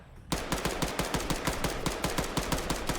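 Rapid automatic gunfire from the military shooter game Arma 3 rattles in a steady burst of evenly spaced shots, loud and close, continuing without pause for a few seconds.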